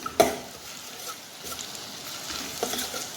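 Ginger and garlic fry in a pot over low heat for chicken soup, a faint soft sizzle broken by a few sharp stirring clicks and knocks.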